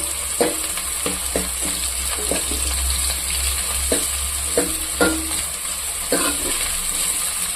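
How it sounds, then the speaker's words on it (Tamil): Onions fry in a pan on the stove, a continuous sizzle running under repeated scraping strokes of a spoon stirring them, about six distinct stirs spaced a second or so apart, close and fairly quiet, with no voices. "போட்டு நம்ம இந்த வெங்காயம் வந்து நல்லா கலர் ஆகணும், நல்லா ப்ரௌன் கலர் ஆகணும். இது நல்லா வதக்கலாம்."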